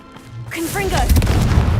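A Confringo blast spell in Hogwarts Legacy erupts in a loud, rumbling explosion with crackling debris, following a brief magical whoosh and a shouted spell cast.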